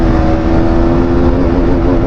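A KTM motorcycle pulling hard in second gear, a loud, steady, close engine drone with a strong tonal buzz that holds through the stretch without letting up.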